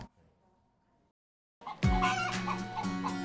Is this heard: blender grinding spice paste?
no